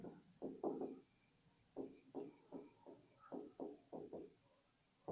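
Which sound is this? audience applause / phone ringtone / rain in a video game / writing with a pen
writing with a pen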